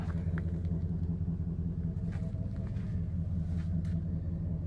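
A pickup truck engine rumbles steadily at idle, a low continuous drone that holds throughout with no talk over it.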